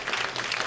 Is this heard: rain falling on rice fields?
no